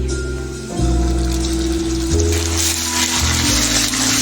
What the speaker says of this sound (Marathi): आता आपण ह्याच्यामध्ये कांदा लसूणचं पेस्ट टाकूयात।